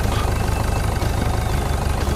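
A vehicle engine runs steadily in the Beer Factory video game, a loud, continuous low rumble with no breaks and no voices.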